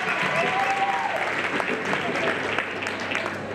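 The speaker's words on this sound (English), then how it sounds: "Just a round of applause, okay?" An audience at an excellence awards ceremony claps in a steady, dense round of applause that holds at full strength throughout, with a hint of crowd murmur beneath.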